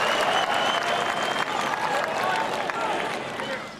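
A large crowd around the 15th green at the 2016 Ryder Cup golf tournament breaks into sustained, dense applause and cheering that fades slightly toward the end, with a voice talking faintly over it.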